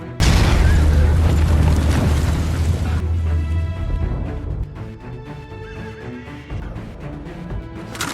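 A loud boom opens the clip, followed by rumbling, horses whinnying and hooves clattering, with a muffled chaotic battle din.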